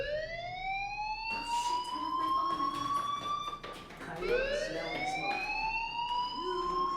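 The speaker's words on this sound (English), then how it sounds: "Hey, do you hear that fire alarm?" A school fire alarm in the video game Life Is Strange blares in repeated rising electronic whoops, each sweep climbing in pitch, loud and continuous with background game ambience beneath and no voices.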